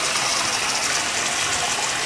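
A bathroom sink faucet runs hot water at strong pressure, a loud, steady gushing hiss that continues without a break.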